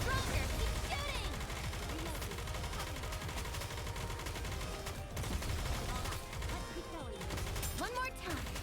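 In the video game Goddess of Victory: Nikke, dense rapid gunfire and bursts sound continuously under game music and character voice lines.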